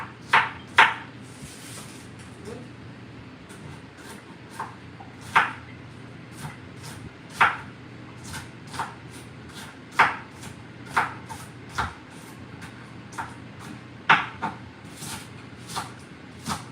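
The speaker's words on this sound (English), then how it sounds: "Just simply cutting up the onions." A knife chopping onions on a cutting board in a home kitchen, with irregular sharp, close knocks spaced a second or so apart, occasional quick double strikes, over a quiet low hum.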